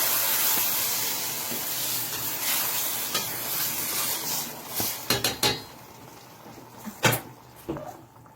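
Tomatoes go into a pan of softened onions frying for squid, and a steady sizzle carries through as a spoon scrapes and clinks against the pan in a few close bursts, with no voices.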